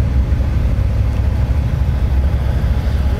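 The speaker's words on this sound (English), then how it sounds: "The Mazda, if I'm not mistaken, creeping up." Modified Mazda engine rolling slowly into a cars and coffee meet, a loud, deep, steady rumble at low revs, close by, with no voices over it.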